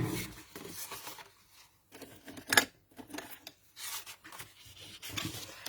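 A folded paper card has its creases pressed and rubbed down by hand, giving soft, close scraping and swishing strokes in short irregular bursts with quiet gaps between them, and a sharper crackle partway through.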